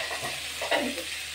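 Chopped green chillies and onions sizzle steadily in a hot pan with garlic, a soft close frying hiss with a few spoon-stirring scrapes and no speech.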